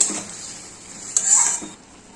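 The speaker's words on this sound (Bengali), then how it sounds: "দেখো যে সিদ্ধ করা ওই ডালটা এবার আমি দিয়ে দিই" Boiled mung dal is tipped into a pan of fried spices, heard as a close clatter of a metal utensil against the pan followed by a soft wet splash and a brief stir, fairly loud with no voices.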